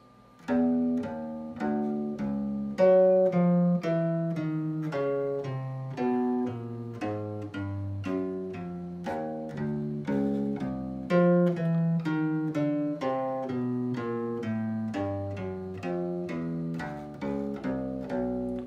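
Bass guitar plays a steady first-position warm-up exercise, a run of plucked single notes shifting up and down the neck in an even rhythm, clear and alone.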